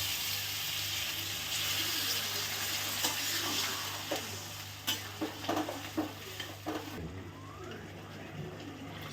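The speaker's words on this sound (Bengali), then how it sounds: "এবার মশলাগুলো আস্তে আস্তে কষতে থাকুক" Ground spice paste fries gently in a pan for restaurant-style matar paneer, a soft steady sizzle with the scrape and knock of a spoon stirring that grows more distinct toward the end.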